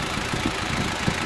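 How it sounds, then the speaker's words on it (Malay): Ford Ranger WL diesel engine running at idle after a start, a steady rumbling drone with soft rhythmic knocking pulses, close by and continuous with no talk. "kita start enjin."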